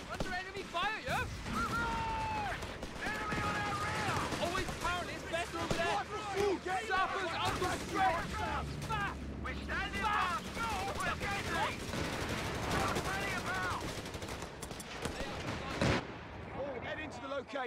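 Rapid gunfire, bursts of machine-gun fire and distant artillery crackle through a strategy video game battle, overlapping with frequent shouted voice lines and talk throughout.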